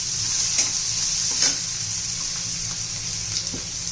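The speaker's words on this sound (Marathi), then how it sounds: "आता त्याच्यामध्ये आपण कांदा घालू कांदा जरा मोठा मोठा चिरून घ्यायचा आहे" Onion frying with garlic in a pan for a spicy potato thecha, a steady close sizzle with a few soft stirring scrapes, continuous and even throughout.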